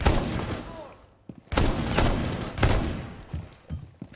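Bursts of gunfire from a weapon in Rainbow Six Siege come in rapid volleys, with one sustained burst, a pause, and then further clusters of shots, loud and close, with a voice talking briefly between them.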